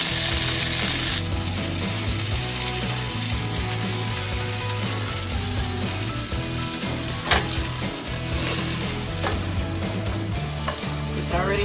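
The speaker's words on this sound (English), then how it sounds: "It's already starting to fry a little bit" Cauliflower and carrots fry in a pan with a steady, loud sizzle throughout, broken by a few scraping stirs and clicks of a utensil against the pan.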